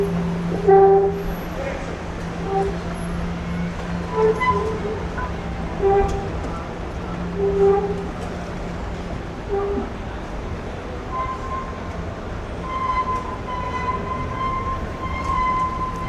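A metro train rumbles steadily nearby at Athens International Airport, with brief horn-like tones and faint talk in the background.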